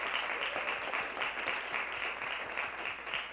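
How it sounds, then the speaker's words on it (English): A large audience applauds educators and featured speakers at an evening event, a dense, steady wash of many hands clapping throughout, loud and sustained with no voices over it. "Please join me in just another huge round of applause for tonight's educators and our featured speakers."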